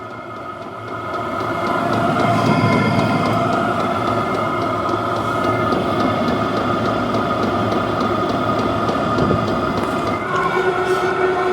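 HCalory diesel heater running without its silencer fitted, a steady, loud, windy roar with a faint whining tone on top, starting up and holding constant throughout.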